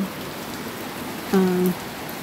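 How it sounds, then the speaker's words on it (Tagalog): Steady heavy rain hisses throughout, with a brief low tonal hum partway through and no voices. "So ngayon po, ang lakas na naman po ng ulan."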